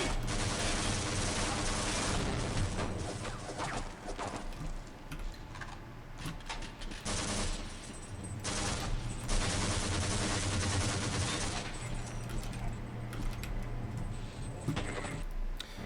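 Rapid gunfire from a Valve shooter game crackles in dense bursts over a loud, continuous game soundtrack, with shots stacking into rattling volleys and brief pauses between them.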